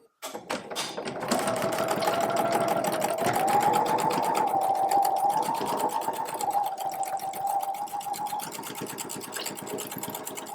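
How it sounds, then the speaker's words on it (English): A sewing machine stitches a seam across the bottom of a simple tote bag, its needle chattering in a fast steady rhythm with a continuous motor hum, close and alone for about ten seconds. "I sew straight across. I back tack beginning and end. And then I sew a second seam right across the first."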